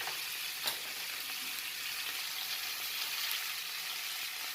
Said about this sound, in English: when you place the skewers on the pan, you can just hear this marvelous sizzling sound